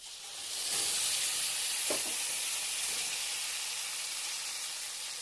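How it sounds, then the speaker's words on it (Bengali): Spice paste added to fried potatoes in a pan gives a soft, steady sizzle and hiss that rises and holds, with a couple of faint stirring knocks, no voices. "আলুটাকে ভেজে নিয়েছি এখন এর মধ্যে দিয়ে দিব পেস্ট করা মশলা"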